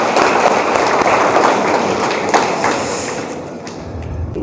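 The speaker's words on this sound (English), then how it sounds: "A round of applause for everyone." A room of participants at a business club session applauds loudly in a thick, steady burst with a few heavier thumps, then the clapping gradually thins and fades.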